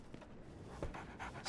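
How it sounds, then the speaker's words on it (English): A dog pants softly in the Sherlock Holmes game, with a few quick breathy huffs at low volume and no talk over it. "So, Barnes has a dog now."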